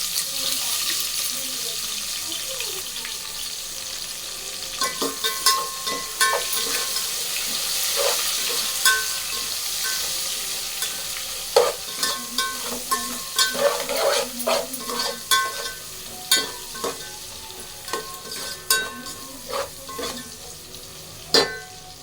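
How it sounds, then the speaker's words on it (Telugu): Sliced onions frying and being stirred in a pan while cooking egg biryani, with a constant sizzle and irregular scraping, clinking strokes of a spoon, close and moderately loud. "అవి ఫ్రై అయినాక ఇప్పుడు ఆనియన్ వేసుకోవాలి."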